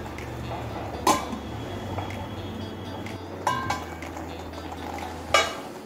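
Carrot halwa stirred in a non-stick pan, a soft continuous scraping under low hum, broken by three distinct spoon clinks against the pan.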